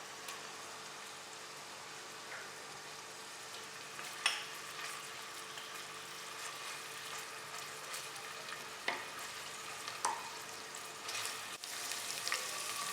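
Tomatoes fry in a pan for barley soup, giving a steady soft sizzle throughout with a few brief clinks and stirring knocks; there is no talking.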